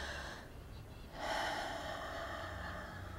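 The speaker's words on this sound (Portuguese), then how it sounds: "respiro lentamente, profundamente" One slow, deep breath sounds softly and close, a long airy draw that swells into a fuller, longer exhalation, quiet and without speech.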